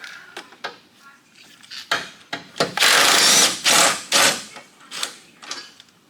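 A power tool whirs in short bursts to remove bolts during a 4.0 engine swap on a Jeep WJ, with several close, loud runs and clinks in between.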